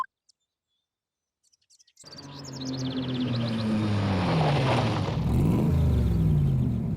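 A car arrives in the video game Phoenix Wright: Ace Attorney. After a quiet start, a loud engine rumble rises and holds, with a rising and falling engine tone as it pulls in.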